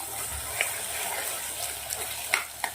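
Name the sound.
green chickpeas sautéing with ginger-garlic-chili paste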